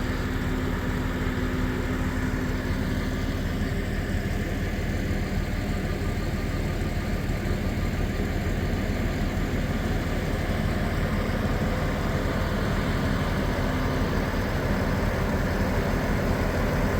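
A John Deere 6120E tractor runs steadily on a farm during fertilizer spreading, its engine a constant low rumble with a faint hum on top and no talking.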